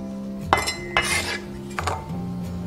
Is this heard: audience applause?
no